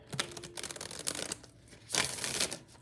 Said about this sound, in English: I already shuffled them, but I'll just did it again really quick, Jen.